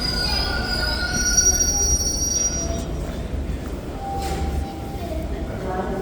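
A TTC subway train near Kipling Station screeches with high, sustained wheel squeal over a continuous low rail rumble, close and loud throughout, with faint voices underneath.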